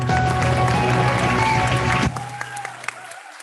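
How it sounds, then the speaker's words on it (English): A workshop crowd claps as loudly as it can, a dense, roaring wall of applause that drops off suddenly, leaving scattered claps and a steady hum. "So as loud as you can, clap."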